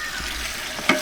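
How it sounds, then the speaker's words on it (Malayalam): Bay leaves, cinnamon and cloves fry in hot oil for a mutton dum biryani, a soft crackling sizzle with a spoon stirring the pan and a sharp clink near the end. "ഈ ബേ ലീവ്സ്, കറുകപ്പട്ട, ഗ്രാമ്പു ഒക്കെ എടുത്ത് നേരത്തെ എണ്ണയിൽ അങ്ങ് ഇടുക."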